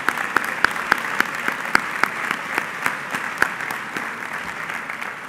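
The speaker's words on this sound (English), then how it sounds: "give the Morehouse College Speech and Debate Team one more round of applause" Scattered applause from an audience at a Morehouse College program, individual claps landing in a loose, steady rhythm that keeps going throughout.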